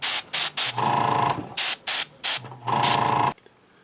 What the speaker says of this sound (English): I can always overspray the base color on top of this